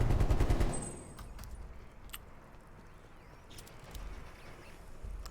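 Rapid automatic gunfire in a first-person shooter game, a dense close burst at the start that fades into scattered distant shots over background game noise.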